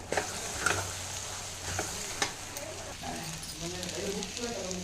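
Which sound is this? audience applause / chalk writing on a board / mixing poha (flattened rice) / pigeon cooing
mixing poha (flattened rice)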